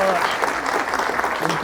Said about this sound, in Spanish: vamos a brindarle un fuerte y caluroso aplauso